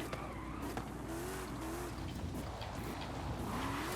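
A car braking hard during a Forza Horizon 5 race, tyres squealing in thin rising whines over a steady, loud engine roar that persists throughout.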